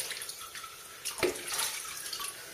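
Water splashes and runs over knife-sharpening stones as they are rinsed off, a close, fairly soft wash lasting a couple of seconds with one brief louder splash midway.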